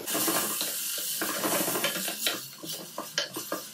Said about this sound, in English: So we're just looking to brown and crisp our bacon.